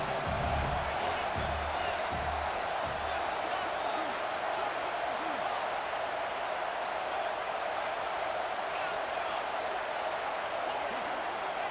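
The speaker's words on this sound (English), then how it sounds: "This crowd knows when to bring it." Stadium crowd noise in the College Football 26 video game, a steady loud roar of cheering spectators sustained throughout, with faint low thumps in the opening seconds.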